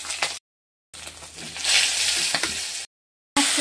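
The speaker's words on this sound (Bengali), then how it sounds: "এবার মাছগুলো একটা একটা করে ছেড়ে দেবো" Small desi tengra fish sizzling and crackling in hot oil, a steady close frying hiss broken by abrupt silent gaps.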